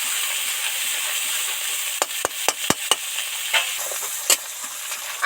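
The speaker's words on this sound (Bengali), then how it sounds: "এটা যত ভালো করে ধরে ধরে ভাজতে পারবো ততই টেস্টি হবে" Masala gravy of ginger, cumin, coriander and chilli powder fries in oil with a constant close sizzle, while a spoon scrapes and stirs the pan in a quick burst of knocks and then a few scattered strokes.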